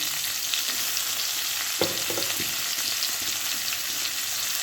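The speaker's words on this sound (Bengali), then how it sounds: "উচ্ছেগুলো ভালো করে ভেজে নেব" Bitter gourd pieces frying in a little oil in a wok, a steady close sizzle with a few short scraping stirs near the middle, no speech.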